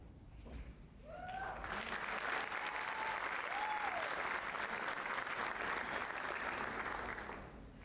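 Audience applause at a high school senior recognition night, steady dense clapping from a crowd that swells, holds and then fades toward the end, with a brief voice at the start.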